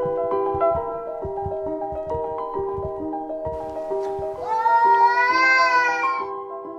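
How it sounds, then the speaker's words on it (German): A cartoon cat meows from behind a door in an animated film, with a long, wavering, rising cry that swells louder near the end over a background of sustained tonal music. "Das war nur die dumme Nachbarskatze."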